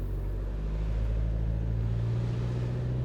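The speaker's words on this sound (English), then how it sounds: "Feeding in more and more throttle." A 2024 Isuzu MU-X with its smaller engine works under rising throttle off-road in rough road mode, giving a steady low drone that holds loud and unbroken with no talking.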